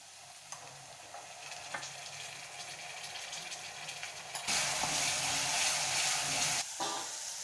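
Onion frying with ginger-garlic paste for restaurant-style chicken curry, a constant sizzle with stirring scrapes that swells into a louder burst of frying midway.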